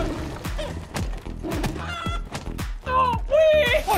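Chicken clucking and squawking in the video game Dark and Darker, several sharp repeated clucks and honking calls in an uneven rhythm, fairly close and clear.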